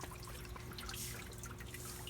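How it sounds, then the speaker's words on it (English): A fish tank airlift pump pushes water up and lets it drain back, a faint steady trickle and patter of drips over a low constant hum. "this has a little airlift thing, and it pumps water up through here and then drains back down."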